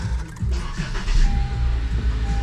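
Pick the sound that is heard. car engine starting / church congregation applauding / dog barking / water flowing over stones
car engine starting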